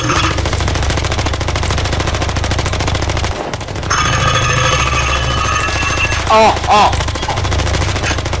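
Automatic gunfire in the video game Electric State, a loud continuous rattle of rapid shots with a short break midway, then a voice exclaiming briefly.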